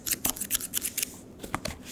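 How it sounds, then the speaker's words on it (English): Several crisp snipping cuts of scissors through a pointe shoe in quick succession, close and fairly loud, with short pauses between bursts and no talking. "Now grab your scissors"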